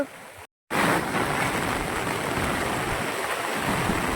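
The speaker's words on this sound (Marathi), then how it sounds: "इतका पाणी आलेला हा इतका मोठा पूर आलेला हा" Loud, steady roar of rushing flood water, broken by a brief silent gap near the start, then continuing unbroken and full.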